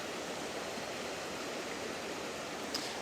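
A waterfall in Whirinaki Gorge gives off a soft, steady rushing hiss, faint and unseen at a distance, with no other sounds.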